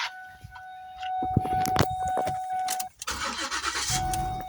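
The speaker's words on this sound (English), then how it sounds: "you can actually start the car" A Ford Edge engine cranks and starts with a run of sharp starter bursts and clicks, then settles into a steady idle, close and fairly loud, with a constant electronic tone running throughout.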